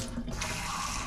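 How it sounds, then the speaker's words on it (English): A kitchen tap runs steadily into a container, a loud, continuous rushing gush of water with no pauses and no voices. "just to run the water till it's at the hottest temperature"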